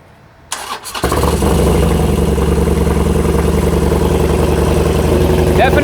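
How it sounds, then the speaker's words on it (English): Harley-Davidson Roadster 1200 fitted with a full Vance and Hines exhaust cranks over and fires, then settles into a loud, steady, bass-heavy idle close by. "We're gonna start it up"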